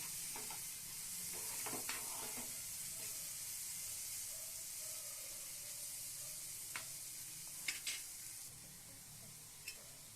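Prawns sauté in masala in a pan, with a soft, continuous sizzle. A few light stirring clicks and scrapes sound through it, quiet and close, with no talk.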